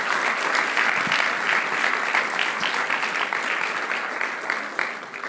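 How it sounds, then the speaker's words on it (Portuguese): A church congregation in Lisbon applauding during a service, thick sustained clapping from a large crowd, loud and even throughout with occasional sharper claps near the front. "Dá mais uma salva de palmas a Jesus."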